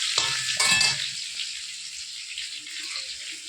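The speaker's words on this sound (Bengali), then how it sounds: "এবার আমগুলোকে ছাড়া হচ্ছে এক এক করে।" Mango pieces for a pickle drop one by one into hot oil, setting off a burst of loud sizzling that settles into a steady, quieter frying hiss.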